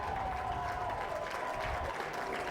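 A big outdoor rugby crowd cheers and applauds steadily at a National Under-17 Shield final between Bromsgrove and Henley, a continuous dense wash of clapping and voices with no single standout burst.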